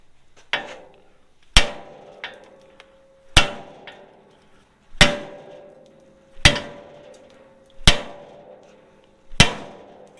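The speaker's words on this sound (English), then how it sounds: "you're going to smack it here with a hammer to knock the ball joint loose" Seven sharp metallic hammer blows on an upper control arm knuckle, knocking a ball joint loose, ring out at steady intervals, each with a brief clanging decay, loud and close with no talking.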